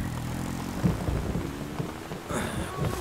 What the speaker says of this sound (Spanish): ¿Te dan miedo los rayos?